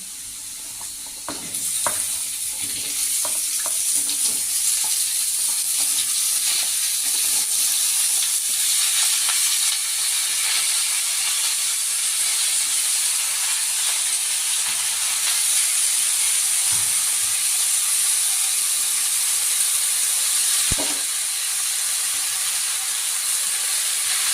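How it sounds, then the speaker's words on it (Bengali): Mixed vegetables and potatoes fry in a hot pan for a dal dish, producing a loud, steady hiss and sizzle with a few brief stirring scrapes and knocks. "আলু লাল ভাজা হয়ে এসছে হালকা আমি সবজিটা দিয়ে দিচ্ছি"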